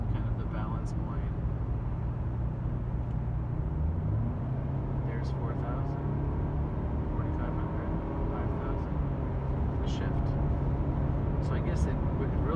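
A Nissan car with an XTronic CVT accelerates at near full throttle, its engine drone climbing steadily in pitch beneath a person talking.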